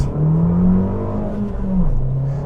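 A 2020 Abarth 695 70° Anniversario, a small 180 PS hot hatch, revs its engine loudly up and down, close to the car with a raspy, rising and falling drone and no talking.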